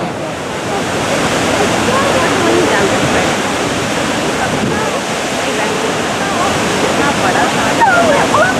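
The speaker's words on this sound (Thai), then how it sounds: "ที่นี่คือน้ำตก" Niagara Falls roars at dusk in a constant, loud, broadband wash of falling water, steady and unbroken, with faint voices of onlookers mixed in nearby.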